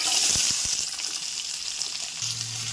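Onions and curry leaves frying in hot oil in a kadai give a steady, close hiss and sizzle, with a few soft stirring knocks near the start and a low hum toward the end.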